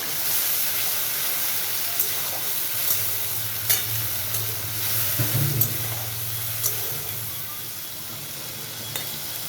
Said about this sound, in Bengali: চিংড়ি মাছটা একটু ভাজা হয়ে গেছে, এখানে দিয়ে দিচ্ছি জিরে আর আদা বাটা